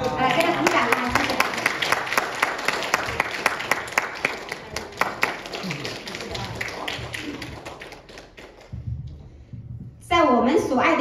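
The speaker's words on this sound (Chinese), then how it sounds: "来，给他鼓掌啊！" A church congregation claps steadily at a Thanksgiving testimony service in New York, sustained applause under a speaking voice, fading briefly before a fresh burst at the end.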